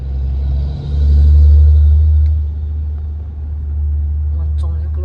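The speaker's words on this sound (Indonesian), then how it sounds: "Gantian ya. Truk-truk yang naik." Trucks climbing a steep mountain road in West Sumatra, heard as a deep engine rumble that swells as one passes close by, then settles to a steady drone, with people talking over it.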